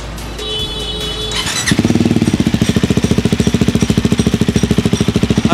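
A KTM Duke 390 Gen 3 fitted with an R9 aftermarket exhaust, still with its dB killer in, cranks briefly then fires up and settles into a loud, rapid, steady pulsing idle close by.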